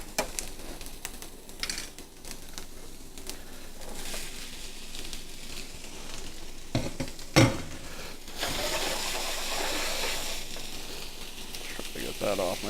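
Vegetables fry in a pan on a stove for sausage stuffing, a continuous sizzle with occasional clanks and a sharp knock of utensils against the pan, with a voice talking over it.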